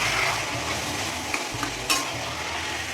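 Fried shrimp and taro leaves stirred together in a hot pan, a loud close sizzling hiss with occasional scraping strokes and a brief clink, no voices present.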